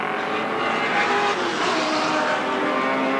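Race cars in a 1986 street car race, loud continuous engine roar as they accelerate in traffic near a right-hand corner, dense and steady with no pauses.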